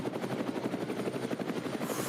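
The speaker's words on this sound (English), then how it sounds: "you can hear the rotor blades in the background." Helicopter rotor blades chop in a fast steady pulse above a car race broadcast at the Nürburgring Nordschleife, loud and continuous for the whole moment with no talk over it.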